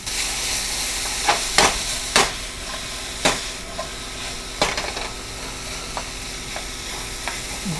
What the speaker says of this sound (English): I'm trying to do this without burning the garlic